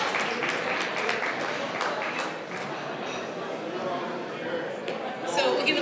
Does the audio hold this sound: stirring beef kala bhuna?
no